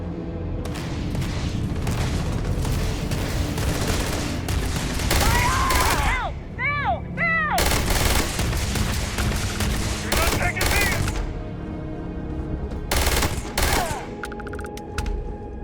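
Rapid gunfire from a weapon in Starfield rattles in loud, close bursts and heavy booms, broken by short pauses, with talk over parts of it.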